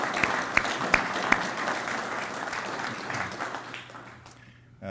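Steady applause from a crowd at the Arkansas Good Roads Foundation annual meeting fills the room, with a few sharper claps standing out early on before the clapping gradually thins and fades.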